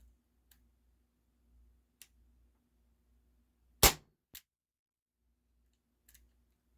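An H&K VP9 air pistol from Umarex firing with blowback action: one sharp, loud crack followed half a second later by a softer mechanical snap, with faint ticks and clicks around it in an otherwise quiet room.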